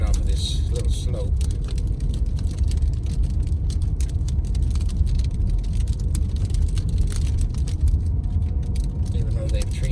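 A car creeps in its lowest gear down an icy, freezing mountain pass at Wolf Creek Pass, its engine a steady low rumble inside the cabin, with faint rattles and voices in the background.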